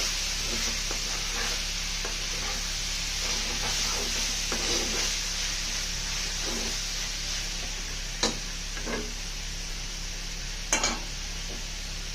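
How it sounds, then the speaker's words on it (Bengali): Malabar spinach (pui shaak) frying in a pan, a steady sizzle with scraping and stirring throughout and a few sharp utensil clicks near the end. "আমার পুঁই শাক ভাজিটা হয়ে গিয়েছে"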